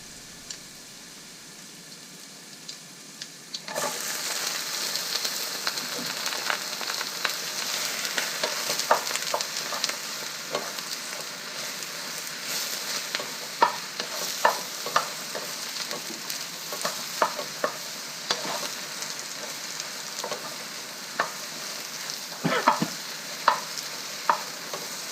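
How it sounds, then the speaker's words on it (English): Chinese okra hits a hot pan with garlic and stir-fries in a steady loud sizzle, with scattered scrapes and clicks of a utensil stirring the pan throughout; the sizzle jumps up sharply after a quieter opening few seconds. "Now put the Chinese okra in."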